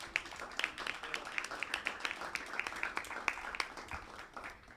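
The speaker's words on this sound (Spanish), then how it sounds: "Así que bueno, un aplauso también para él." Light applause from a modest audience at a university political science and international relations orientation fair, a scattering of individual claps at moderate distance, fairly faint, with some voices mixed underneath.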